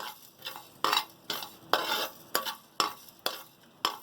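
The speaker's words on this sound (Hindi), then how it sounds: "ये है ज़ीरा, सफ़ेद ज़ीरा। इनको हम हल्का सा भून लेंगे।" White cumin seeds dry-roasting in a pan, stirred with a utensil in rhythmic scraping strokes about every half second, each a brief rustling swish with soft clinks, close and without speech.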